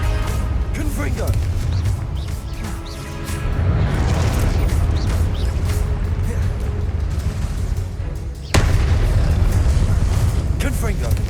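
Confringo blasting-spell explosions boom repeatedly during a Hogwarts Legacy trial, dense and rumbling, with a sharp new blast near the end, while a voice talks over the noise.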